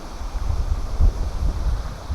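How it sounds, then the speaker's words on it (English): Wind gusts across a campsite on a rainy, stormy day, a steady low rumble of air buffeting the microphone that swells and eases, with no voices. "Well, it's pretty windy today."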